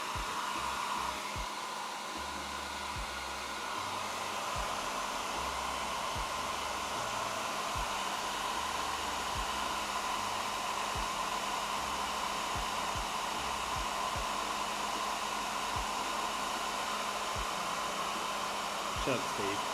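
A hair dryer blows steadily and loudly on a painted miniature arm, a constant airy roar with a hum running through it, holding unbroken for about twenty seconds with no talk over it.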